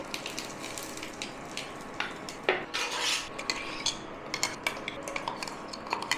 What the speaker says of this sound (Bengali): ততক্ষণ আমি চাটনিটা এতে ঢেলে নেবো বাটিতে।